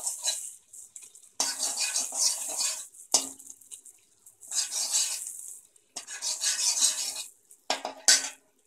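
Two cubes of butter melt on low heat in a pan for a white sauce, stirred in bursts with scraping utensil strokes and a soft sizzle. There are short quiet gaps between the strokes and no voices.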